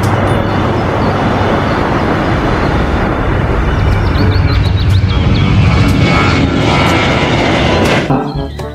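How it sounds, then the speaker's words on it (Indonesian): A loud airplane engine drone, like a toy's sound effect, roars steadily before dropping off abruptly at the end. "Yang ini ada pesawat terbang."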